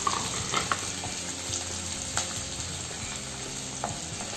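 Small shallots for vegetable pulao sauté in a pan, giving a soft, steady sizzle with occasional light scrapes and taps of stirring, close and fairly quiet with no voices.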